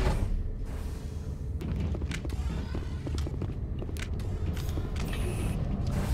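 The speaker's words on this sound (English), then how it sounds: "Another awkward, silent elevator ride." An elevator ride in the video game Mass Effect, with a continuous low mechanical hum and rumble broken by scattered creaks, clanks and thuds. The sounds are moderately loud and have no talk over them.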